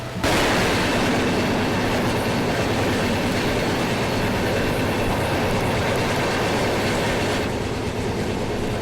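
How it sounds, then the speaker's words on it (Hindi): The Bandra Terminus–Udaipur City Express running past on a ghat section, a loud continuous roar of wheels and rattling carriages that starts abruptly and holds steady throughout, with no talking. "ये मेरे ख्याल से Bandra terminus Udaipur city express है।"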